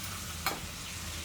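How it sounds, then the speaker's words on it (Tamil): Raisins frying in oil in a pan, a dense steady sizzle with one brief scrape of stirring, close and continuous, no voices. "திராட்சை போட்டு நல்லா வறுத்துக்கலாம்"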